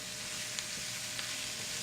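Organic vegetables sizzle steadily in a hot pan while being stir-fried until crispy. The hiss is close and constant, with faint stirring ticks underneath.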